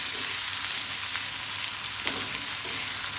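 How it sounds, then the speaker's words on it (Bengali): Onion and garlic sizzle steadily in oil left over from frying eggs, a continuous close hiss with faint stirring scrapes. "ডিম ভাজার তেলেই আমার পেঁয়াজ রসুন এগুলো ভেজে নিচ্ছি"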